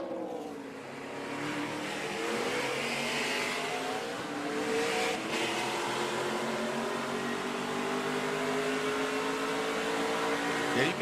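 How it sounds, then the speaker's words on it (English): An ARCA race car at Charlotte Motor Speedway spins its tires under hard throttle, heard as a continuous roaring, squealing engine and tire wash, compressed and steady as if over team radio. "you could hear him spin the tires, Vince"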